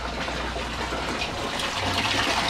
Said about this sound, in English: Now you can see the water flowing to barrel number 3